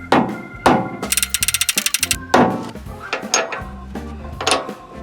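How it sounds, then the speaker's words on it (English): A rubber hammer strikes the steering gear of an old Chevy truck in heavy, ringing metallic blows mixed with a fast burst of rattling taps, loud and close, with no voices. "I'm gonna beat this with a rubber hammer"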